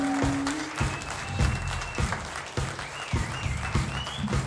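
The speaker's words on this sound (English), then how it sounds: "let's give KNON a big wonderful round of applause for keeping the blues alive" Audience applause at a live blues concert: a steady, dense wash of clapping runs through the whole stretch at moderate loudness, with low thumps and a faint sustained tone in the background.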